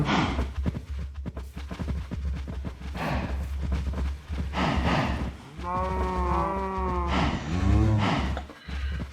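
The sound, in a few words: cows mooing in video game Minecraft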